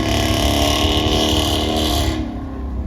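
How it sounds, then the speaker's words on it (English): A BMW M3 F80 with an equal length exhaust revs loudly up close, a sustained raspy engine roar that holds steady before easing off near the end. "equal length exhaust, guys"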